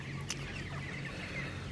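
Broiler chickens, 28 days old, clucking softly in a poultry shed with wood-shavings litter: a faint, continuous murmur of low clucks from several birds, quiet and a little distant, with no talking.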